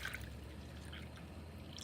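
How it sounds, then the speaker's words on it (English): Tap water runs into a bowl inside a camper van, a steady, close trickling pour lasting about two seconds with no talking. "I'm gonna fill my bowl with water."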